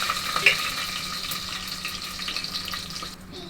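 Five or six garlic cloves go into hot oil with dried red chillies and cumin seeds and sizzle close and steadily. The frying stays loud throughout and drops off sharply right at the end.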